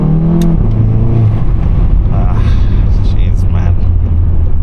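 A tuned VW Golf 7.5 GTI with a full exhaust system pulls under load, its deep engine rumble droning steadily from inside the cabin, with shifting engine tones and some talk over it.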